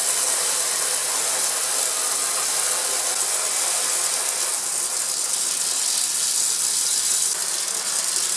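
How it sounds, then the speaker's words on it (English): A lab vacuum pump running for vacuum filtration, giving off a steady, loud hissing mechanical whir with a fine rattling texture that holds constant throughout. "So let's get the vacuum started, and again I apologize for the noise that this may make"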